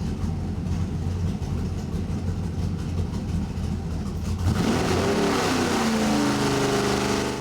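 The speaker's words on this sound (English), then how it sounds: "That's our awesome TrashHawk engine on the dyno and engine power." A TrashHawk engine built for a wood-paneled Jeep XJ runs hard on a dyno, its steady loud drone swelling midway into a rising, revving roar that climbs in pitch and holds near and alone.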